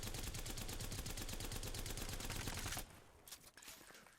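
A rapid, continuous full-auto spray from an Apex Legends weapon fired with jitter aim at a target, loud and evenly paced for nearly three seconds, then cut off into quieter scattered sounds.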